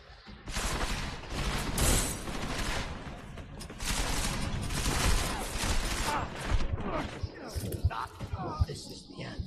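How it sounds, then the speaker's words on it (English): Bursts of gunfire heard in a rooftop setting during a live broadcast, loud and dense in two long stretches with scattered sharper cracks at the end, mixed with voices in the background. "What's that gunfire?"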